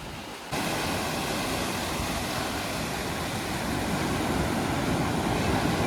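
Sea waves break onto the shore at Kovalam Beach as a continuous, close, full-bodied roar of surf that jumps up after a brief softer moment and then holds steady.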